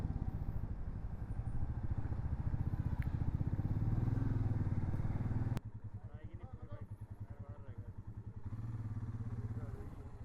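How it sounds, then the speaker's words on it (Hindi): Motorcycles and a scooter ride together on a road in Assam, giving a close, steady engine putter with rhythmic pulsing throughout and a sudden shift in tone partway through. "तो हम चलें अपनी अपनी बाइक्स पे, और पंकज चलें अपनी स्कूटी में।"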